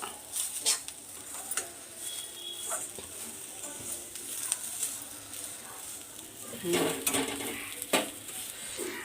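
Moringa and curry leaves dry-roasting in a pan, with scattered metallic scrapes and clinks of a spatula stirring against the pan, soft and fairly close, plus a few louder knocks amid a quiet kitchen background.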